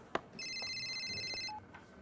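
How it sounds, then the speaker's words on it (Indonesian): Telephone rings for an incoming call in an Indonesian drama scene, a single steady electronic trill lasting about a second, fairly faint in a quiet room with small knocks around it. "Sebentar, ada telepon masuk."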